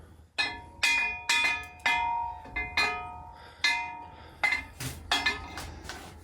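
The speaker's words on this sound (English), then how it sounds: "one hanging bell, like, you know, a wind bell like these" A hanging wind bell rings in a series of clear metallic strikes with long decaying tones, some overlapping and uneven in timing, heard close and alone.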